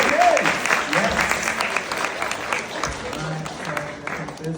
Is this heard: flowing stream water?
no